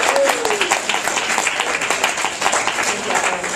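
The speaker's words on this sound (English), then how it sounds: "Give her some applause for you guys" Convention audience at a DragonCon author panel clapping for an audience member, a steady patter of many hands with scattered voices mixed into it.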